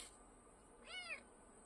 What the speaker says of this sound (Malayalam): കരഞ്ഞൊക്കെ കേൾപ്പിക്കുന്നത് പക്ഷെ അമ്മ പൂച്ചയ്ക്ക് മൈൻഡ് ഇല്ലേ